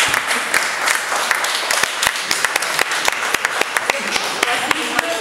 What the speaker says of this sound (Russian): а теперь долгие продолжительные аплодисменты